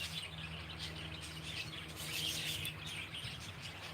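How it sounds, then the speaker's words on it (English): A wren's small chirps and tweets sound faintly against a quiet outdoor background with a low steady hum, several brief calls scattered across a few seconds. "In England you call them a wren."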